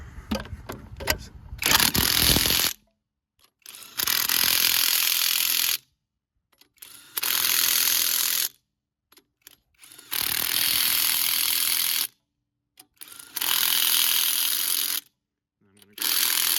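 Impact wrench driving a 100 foot-pound torque stick to tighten wheel bolts on a car, several loud sustained rattling bursts of about two seconds each, separated by pauses.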